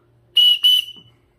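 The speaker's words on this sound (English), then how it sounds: "just a little blow and obviously you get a good whistle sound out of there." Small whistle built into a paracord survival bracelet, two short, piercing shrill blasts in quick succession, loud and close, then silence.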